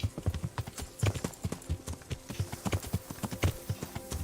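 Horse hooves clip-clop in a steady, quick trotting rhythm across ground in the medieval video game Kingdom Come: Deliverance. The beats are close, moderately loud and continuous.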